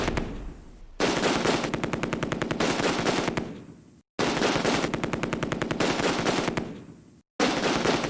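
Machine gun fire in the World War II strategy game Close Combat, set around Arnhem: rapid sustained bursts of rattling automatic shots, loud and close, three long strings broken by brief silent gaps.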